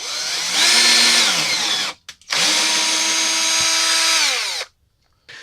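A power drill drives screws into a Music Man Sub series guitar body, whirring in two long bursts with a brief pause between, the motor pitch sliding down as each screw seats tight, loud and close.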